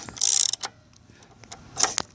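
A ratchet socket wrench working the front axle bolt of a Honda Shadow Spirit motorcycle, heard as short bursts of rapid clicking, close and crisp, with quiet gaps between them.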